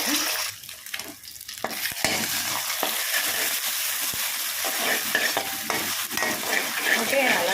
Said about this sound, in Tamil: முட்டையை நல்லா கலந்து விட்டுக்கோங்க